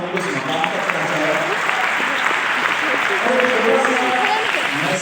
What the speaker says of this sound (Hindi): तो आप लोगों के लिए जोरदार ताली होना चाहिए